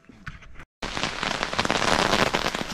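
Rain pours down steadily at Baldeneysee lake, a loud broadband hiss of drops on surfaces that begins softer, cuts out briefly, then returns stronger and continuous, close to the listener.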